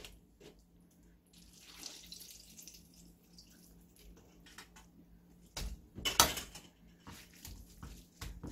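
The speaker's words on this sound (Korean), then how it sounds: "씻은 토란대를요꾹 짜주세요." Washed taro stems squeezed by hand, quiet wet squelching and trickling water dripping into a bowl, with a louder burst of splashing near the end.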